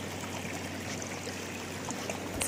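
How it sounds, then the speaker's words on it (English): The river at Greenwood Creek, California, beside a gold sluicing spot, flows steadily with a continuous soft rush and trickle, fairly quiet and even, with no talk. "Oh, there's the river."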